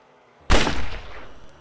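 A single loud shotgun blast fires in the zombie video game March of the Living, with a sharp close crack that tails off into a rumbling decay over about a second.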